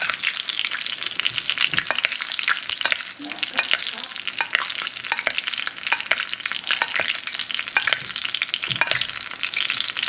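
Salmon fries and sizzles in a pan while being basted, making a loud, crackling spatter with frequent sharp pops over a constant hiss, and no talking.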